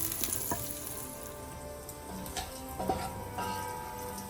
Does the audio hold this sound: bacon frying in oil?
yes